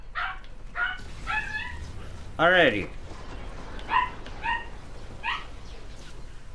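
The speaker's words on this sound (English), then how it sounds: "The dog's in the background." A dog in the background of a Call of Duty Infinite Warfare gaming session barks and yips several times in short, separate bursts, with a louder cluster near the middle. Someone talks over the barking.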